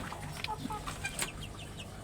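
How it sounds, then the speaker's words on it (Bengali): Soft, scattered clucks and chirps from a few young Fayoumi chickens on a rooftop farm, close by, over a quiet background. "এগুলো হচ্ছে ফাউমি মুরগি বাচ্চাগুলা"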